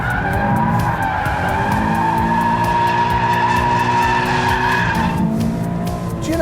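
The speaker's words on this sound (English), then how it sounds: "That was definitely a power slide." Japanese car power sliding hard through a corner, with a long, loud screech of skidding tyres over a revving engine, close by and continuous until it eases off near the end.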